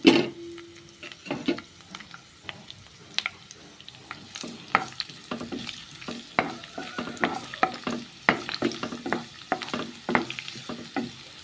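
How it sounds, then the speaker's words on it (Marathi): Chopped garlic sizzles in hot oil with a steady frying hiss, while a spoon scrapes and stirs the pan in frequent sharp clinks. "आनी आतां हांव तेल मातशें गरम जालें तशें ती लसूण कातोलो न्हू ती घातां पयलीं."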